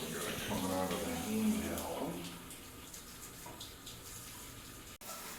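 Water runs from a rainfall shower head in a hotel bathroom, a steady hiss and splash, with a person talking over it early on, then the flow continues alone.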